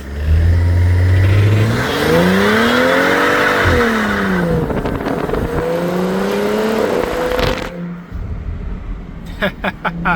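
A BMW 335i engine revs loudly and climbs in pitch during a rolling burnout, rising and falling through several pulls with tire noise underneath, then cutting off before a few sharp clicks.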